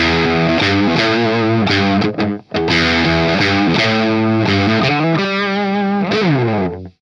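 Electric guitar runs through a Costalab Moon Drive overdrive pedal with the sustain set to about a quarter, producing loud strummed chords and ringing notes with moderate grit, playing continuously with no voices.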